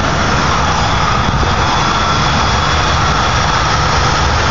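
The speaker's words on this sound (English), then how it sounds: "It's very quiet, idling nice." A 2000 Ford Crown Victoria's engine idles just off the highway, a loud, close, steady low rumble that holds unchanged throughout with no talking.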